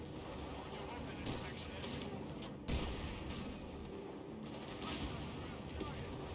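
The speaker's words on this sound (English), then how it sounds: "Artillery incoming!" Artillery fire in the Company of Heroes 3 Africa campaign: a steady roar of battle with scattered gunfire cracks and one heavier thump near the middle, dense and continuous throughout.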